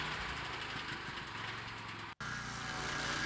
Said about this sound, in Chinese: 今天我们从 Home Depot 租了一台手推式切割机